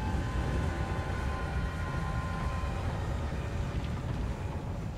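Steady rumbling train ambience in the video game Alice: Madness Returns, a continuous dense low roar with faint metallic tones, unchanging loudness throughout and no talking.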